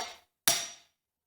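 Two sharp metallic strikes of a claw hammer on a valve tool installing keepers on a Kawasaki engine, the second louder with a ringing decay, close and isolated with silence around.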